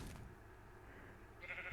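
A sheep bleats once in Ranch Simulator, a short wavering farm-animal call heard alone at moderate volume.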